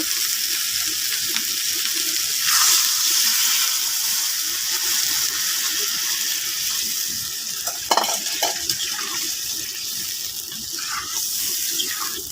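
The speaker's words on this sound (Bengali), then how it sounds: "এখন আমি পানি দিয়ে দেব" Water pours into a hot pot of koi fish and taro curry, a steady bright rushing hiss with sizzling and a few stirring clinks.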